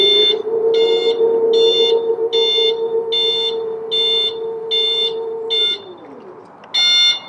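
Repeated electronic warning beeps from a battery-powered high-tip electric dumper, about eight evenly spaced high tones, sounding over a steady low motor hum that fades out near the end.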